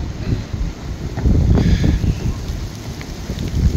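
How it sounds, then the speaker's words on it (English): Steady, dense rattling patter of hail striking surfaces outdoors at a river race event, with gusty wind noise throughout and no voices. "Nothing like a little hail."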